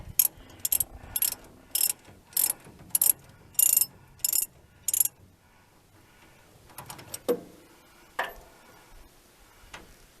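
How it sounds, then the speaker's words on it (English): Ratchet wrench turning the nuts on a car steering box, a run of about nine quick, even clicking bursts up close, followed by a few scattered metallic clinks and taps. "It's been fun trying to get wrenches into the back here."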